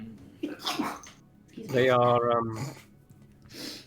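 A single sneeze bursts out near the middle, close and fairly loud, framed by brief quiet talk before and after.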